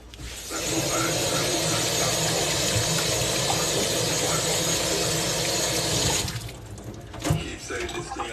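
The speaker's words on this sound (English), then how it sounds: "Wash your scallion, you see me? I say you wash everything that you use." Tap water runs steadily as scallions are rinsed in a kitchen while cooking pork shoulder, a broad continuous rush for about six seconds before it stops, followed by a few small clinks.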